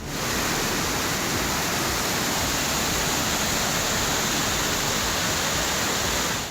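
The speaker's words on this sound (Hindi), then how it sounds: "सब कुछ पानी की धार में बह चुका है।" Steady, dense roar of rushing floodwater in submerged Bihar villages after heavy pre-monsoon rain, loud and continuous with no voices.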